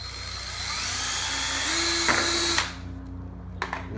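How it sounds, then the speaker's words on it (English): A power drill bores down through a hole in a DIY kayak crate, making a long, loud, rising whine that cuts off sharply, followed by a few faint clicks. "I'll drill down through each of these 4 holes to give us our mounting locations for our screws"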